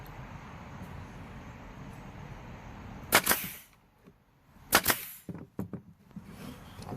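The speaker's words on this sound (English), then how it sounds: "Go ahead and shoot you some brads in there." A brad nailer fires brads into scrap lumber for a mountain wall decor piece: two sharp loud pops a couple of seconds apart, followed by a few quieter clicks and knocks over a steady background hiss.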